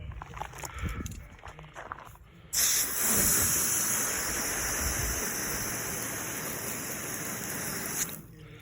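Water sprayed onto rusting bondo body filler on a panel left outside, a loud, continuous close hiss that starts abruptly after a few seconds of rustling and runs steadily to the end before cutting off.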